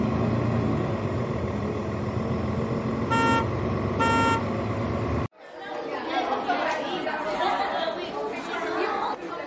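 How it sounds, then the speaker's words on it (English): Busy street at a bus stop with traffic rumbling, two short car horn toots, then a cut to a steady crowd chatter of many voices. "Bus stop."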